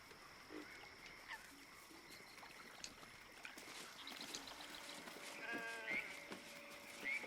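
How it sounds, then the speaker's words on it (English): A sheep in the Baldur's Gate 3 video game gives a faint, wheezy bleat over quiet ambient game sounds, with soft tonal chirps and murmurs near the end. "Wheezing, the sheep backs away."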